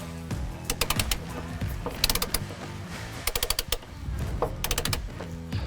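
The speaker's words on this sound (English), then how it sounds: "we're going to get our torque wrench, get rid of our extension here, and I'm going to start getting this tightened down." A torque wrench ratchets in quick bursts of sharp clicking while tightening a body mount bolt on a Chevy/GMC pickup truck, close and repeated with short pauses between strokes.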